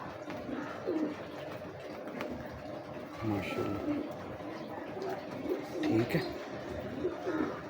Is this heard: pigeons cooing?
yes